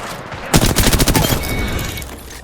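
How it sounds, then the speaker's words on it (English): Rapid bursts of gunfire from enemy players in the battle royale game Apex Legends, a loud dense fusillade of close shots lasting about a second and fading into a ringing tail. "The enemies are shooting at me"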